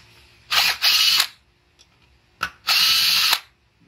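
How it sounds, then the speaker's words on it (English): A cordless power drill driving fasteners on a Toro Recycler 22-inch lawn mower, two loud whirring bursts of about a second each separated by a short pause, with faint clicks between. "My drill apparently don't have enough torque"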